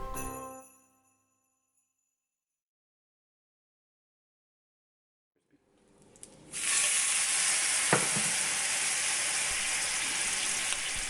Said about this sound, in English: we have dipped our tortillas in the broth and we are frying them